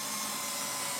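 A Festool power screwdriver runs with a continuous close, loud whirring hum as it unscrews a cover on a Holzmann or Bernardo thickness planer.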